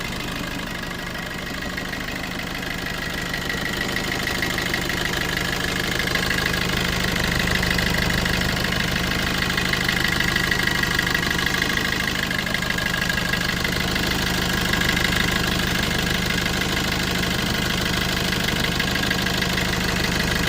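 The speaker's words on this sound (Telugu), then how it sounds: "సో ఇంజిన్ సౌండ్ అయితే చూడొచ్చండి చాలా ఎక్సలెంట్గా ఉంది ఇంజిన్ సౌండ్" A Maruti Vitara Brezza diesel engine idles steadily nearby, a continuous rough, knocking rumble that holds constant throughout with no voices.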